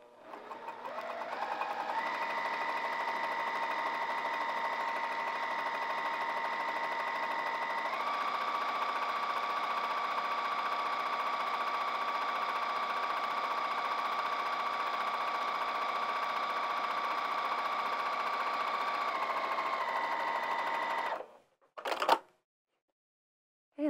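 A sewing machine stitches a bag in one long, steady, close run with an even mechanical hum that shifts pitch slightly partway through, then stops abruptly near the end, followed by a brief click.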